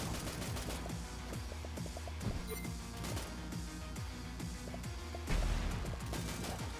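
Grenade blasts and dense gunfire in a chaotic twin-stick shooter survival co-op game, with rapid overlapping shots and a heavier booming explosion near the end.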